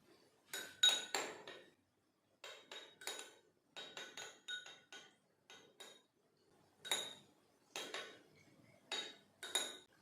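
A spoon clinks and scrapes around a bowl while chilli chicken sauces, including red chilli sauce, are stirred together, sharp bright taps in irregular bursts with short pauses, close and quiet, no talking.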